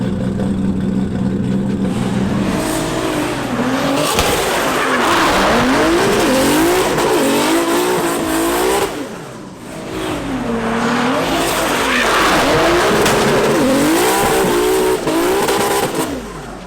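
A Nissan S15 drift car's engine revs hard while tires squeal and skid in long sweeping bursts, loud and close, easing briefly in the middle before surging again.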